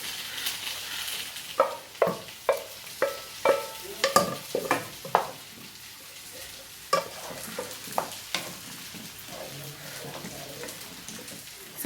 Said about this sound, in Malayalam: ഇനി ഇത് നമുക്ക് തയ്യാറായിക്കൊണ്ടിരിക്കുന്ന സാമ്പാറിലേക്ക് ഒഴിച്ചു കൊടുക്കാം